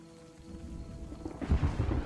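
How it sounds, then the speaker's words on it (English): Rain and thunder in the survival game Final Outpost: soft steady rainfall followed by a low rolling thunder rumble that swells louder in the second half, with no talking. "It's raining."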